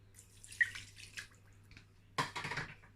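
Water being poured into chicken pie filling in a pot, with two short splashing pours and a few faint drips in between, quiet and close.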